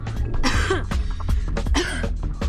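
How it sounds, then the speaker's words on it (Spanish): A woman suffering from tuberculosis coughs in two harsh, wet bursts, each a rapid cluster of hacking coughs with throat clearing between, close and loud with no speech. "cuando comprueba que su tos empeora"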